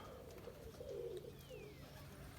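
Pigeons cooing softly around open coops outdoors, a few low murmuring coos in a quiet, faint setting with no talk.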